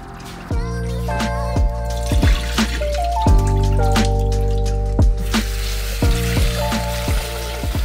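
Running water splashing over brined bitter melon being rinsed in a sink, a steady stream with irregular drips and gurgles shifting in pitch, close and fairly loud, with no one talking.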